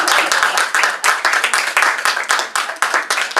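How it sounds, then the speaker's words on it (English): Close, loud rhythmic group clapping from an audience at a Buddhist lama's gathering, quick sharp claps that fall into a steady pulse for a few seconds. "Please clap for yourself."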